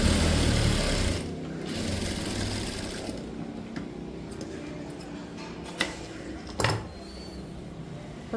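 A sewing machine stitches a blouse, its fast, even mechanical whir loud for the first second before dropping to a softer run, with a few sharp clicks near the end.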